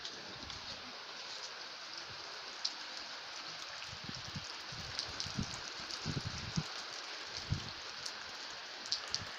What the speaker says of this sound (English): that it is raining outside